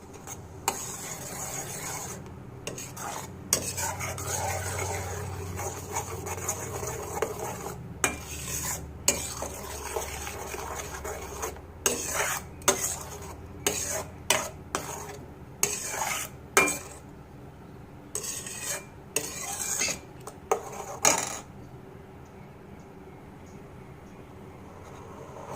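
Ground tomatoes being stirred into sugar syrup in a pan, a steady scraping and rubbing of spoon against metal with clinks and faint sizzling over about 25 seconds, close and unaccompanied by speech.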